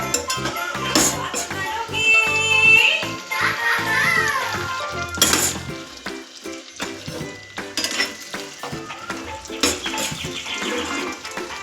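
Green chillies and onions frying in oil in a pan with tomatoes, giving a steady close sizzle with stirring scrapes and clinks throughout, plus a short burst of louder crackling midway.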